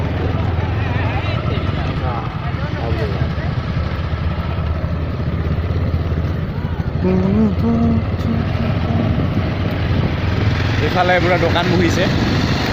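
A group of about fifty motorcycles rides together near Sorolpara, Kokrajhar, their engines a steady continuous drone under nearby talking throughout.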